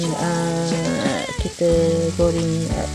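Anchovies (ikan bilis) fry in hot oil, a loud close sizzle that carries on steadily while a spatula stirs and scrapes now and then, with a tonal hum running underneath.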